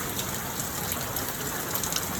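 Rain falls steadily on a rainy August morning, an even, dense hiss of drops on surfaces that holds without pause, with no voices.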